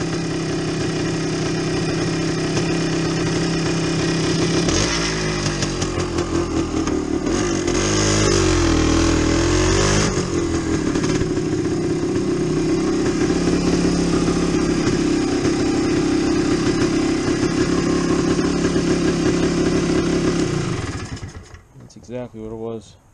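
A Yamaha DT360 two-stroke motorcycle fires up and runs steadily for about twenty seconds, loud and close, with a burst of revving in the middle, and then cuts off near the end.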